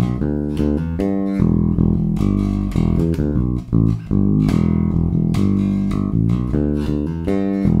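Bass guitar playing a rock/funk riff with a slight wobble, a steady run of punchy plucked notes at close range, played alone with no talk.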